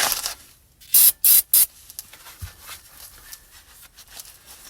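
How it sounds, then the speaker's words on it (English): Three short, sharp bursts of brake cleaner spray hiss in quick succession onto brake pads of a 2008 Toyota Tundra, close and loud, followed by quiet rustling. "What I like doing is spraying it down with a little brake cleaner."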